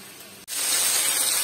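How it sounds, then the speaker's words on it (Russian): Mini marinated shashlik skewers sizzle in a frying pan for a home dinner, a loud, steady hiss that bursts in suddenly after a brief moment of near silence and holds. "Ох, горячо, шашлычки мои жарятся."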